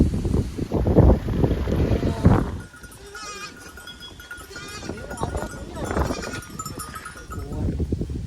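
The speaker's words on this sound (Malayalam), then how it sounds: "ഭയങ്കര കാറ്റല്ലേ." Strong wind on a forest road between Achankovil and Tenkasi, heard as heavy low buffeting rumble on the microphone, loudest at the start, with people talking through it.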